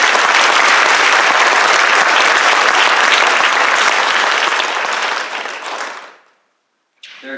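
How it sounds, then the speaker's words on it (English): Audience applause at a high school community service awards ceremony: loud, dense clapping from a large crowd that holds steady, fades out around six seconds, then starts briefly again. "So let's give another big round of applause."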